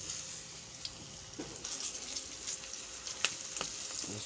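Chicken feet frying in hot oil, a quiet continuous crackling sizzle with occasional sharper pops and spatters, heard close and alone without talk.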